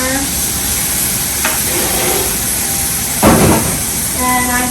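Canned diced tomatoes cook in a pan of vegan chickpea coconut curry, giving a constant sizzling hiss. Two brief scraping stirs cut through, the second louder.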